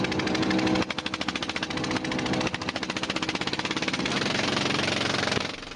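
Engine of a Chinese fishing boat runs with a rapid, hard knocking pulse, loud and close, steady throughout with a brief shift near the start, over wind or water noise.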